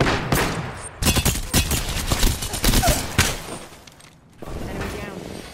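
Rapid bursts of gunfire in the online shooter Apex Legends, sharp cracks coming in clusters over several seconds with a brief lull near the end, loud and close.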